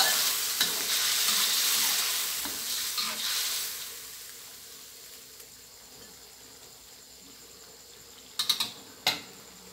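Catfish and eggplant are stir-fried with fish sauce in a pan for a hot, spicy dish. A loud sizzle fades gradually and is followed by a few sharp spatula clanks near the end.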